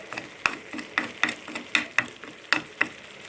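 Meat sizzles as it fries in a tagine pot while being stirred with a wooden spoon, rhythmic sharp scrapes and taps about every quarter second over a soft steady crackle, close and alone.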